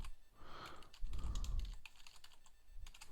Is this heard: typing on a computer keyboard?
yes